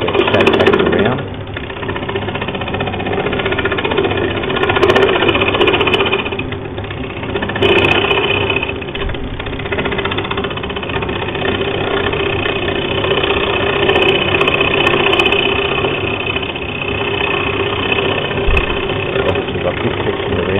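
A wood lathe turns a solid timber bowl while a scraper shapes it back to round, giving a steady, loud mechanical whir and chatter with a few brief scraping surges throughout.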